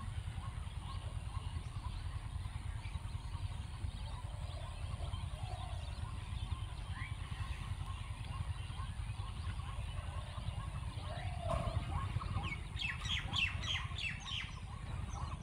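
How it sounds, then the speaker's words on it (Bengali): Birds chatter and chirp at a wetland (beel) in Dhunat, Bogura, at the end of winter. Steady low background noise runs under faint calls throughout, and a denser burst of chirping rises near the end. "সব সময় এরকম কোলাহল মুখর করে থাকে এই সকল পাখিরা।"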